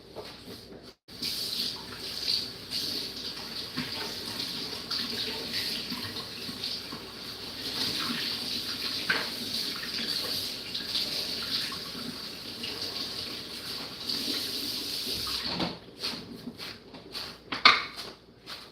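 Water runs steadily from a kitchen tap for a long stretch while something is rinsed, with faint clinks of dishes and cups near the end.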